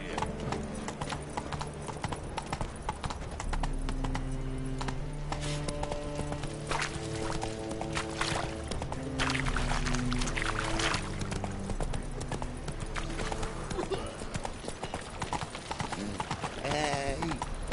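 A horse's hooves clip-clop steadily in The Witcher 3: Wild Hunt video game, under continuous game music and some speech.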